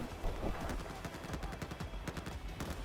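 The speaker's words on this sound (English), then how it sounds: "See, look how fast that fires, and that's a high damage gun as well." Rapid-fire gunfire from a high-damage secondary weapon in the video game Battlefield 4, a fast, dense burst of shots running throughout over a busy, loud game mix.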